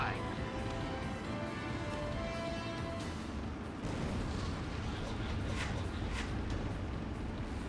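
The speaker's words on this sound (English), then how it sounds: "They're the auto guns working. See? So once you get kind of close, or once you intersect, it's already firing." Automatic guns on a fighter jet in Ace Combat 7, heard as a steady, dense roar of rapid cannon fire that runs unbroken under the engine drone for the whole stretch.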